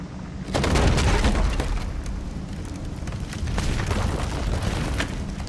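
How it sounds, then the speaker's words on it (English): A heavy, rumbling bile bomb blast in The Bard's Tale IV goes off with a sudden boom, followed by sustained crackling and rolling explosive noise. "I guess we use our bile bomb to just"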